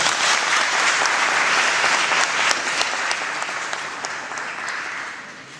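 A conference audience applauds warmly, a dense continuous clapping that swells briefly and then gradually fades over several seconds.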